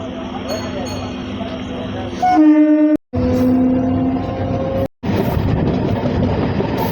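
Train pulling away on the forested Masagram–Bankura line in West Bengal, its horn sounding loud and close in several sustained blasts amid rumbling engine and rail noise, with someone talking over it.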